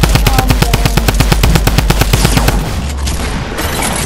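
Rapid automatic gunfire in a Fortnite match, a loud, close burst of evenly spaced shots rattling for over two seconds before cutting off, leaving a rumbling fade.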